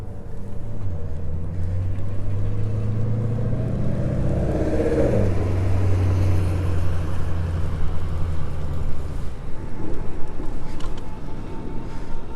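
A OneBot GNS6L electric bike ridden on throttle alone, with steady rumbling motor and road noise throughout and a rising whine as it accelerates, close and continuous with no talk.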